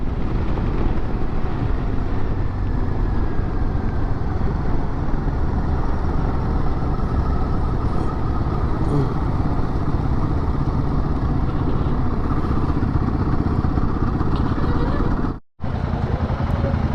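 A motorcycle rides along a road in Punjab from Jalandhar toward Zira, its steady engine roar and rushing wind filling the recording continuously and loudly before a brief cut near the end.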